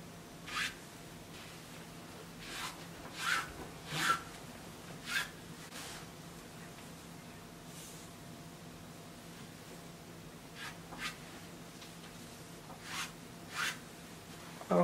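Scissors cut through dress fabric for a circle dress in short, sparse snips spaced a second or more apart, close and soft over a quiet hiss, with no one speaking.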